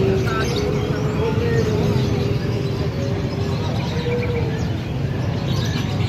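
Many birds chirp and tweet amid the constant bustle of an open-air bird market in Ambulu, Jember, a dense steady wash of calls with faint voices mixed in.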